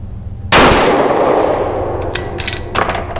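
Single loud rifle shot from a 6XC rifle with an X-Caliber carbon barrel at a 100-yard range, a sharp close crack with a long ringing decay, then faint distant clatter.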